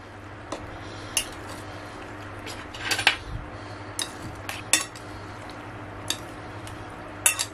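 Boiled macaroni is stirred into a filling with a utensil, giving soft wet squishing and occasional sharp clinks of metal against a pot, irregular and close.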